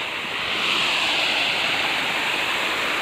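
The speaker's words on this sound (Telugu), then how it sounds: "సో ఇప్పుడే మేము గుండం వాటర్ ఫాల్స్కి వచ్చాం" Gundam waterfall, also called Bugga waterfalls, pours in a steady, full roar of rushing water, close and unbroken from start to finish, with no voices over it.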